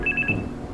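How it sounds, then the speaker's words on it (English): In-game telephone ringing in The Charnel House Trilogy, a short burst of bright electronic ring pulses at the start that fades out, followed by a low thud and quiet room tone. "Phone's ringing."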